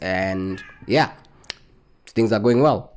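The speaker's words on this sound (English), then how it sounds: "If you heard that, that's my cat." A pet cat lets out a couple of clear, close meows, one short and rising and one drawn out, between bits of someone talking.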